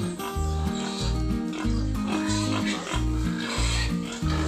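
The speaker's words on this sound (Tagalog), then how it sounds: "Nandito na naman tayo sa kulungan ng mga baboy para magpakain at mag-deworm sa isang inahin." Pigs grunt and oink repeatedly in a pen, including a pregnant sow at feeding time, in a close, rhythmic chorus, loud and continuous with no clear talking.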